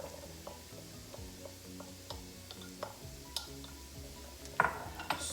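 Chopped mushrooms fry in butter and olive oil in a pan with a low, steady sizzle, joined by a few light taps and scrapes of a utensil, close and quiet, with no talk.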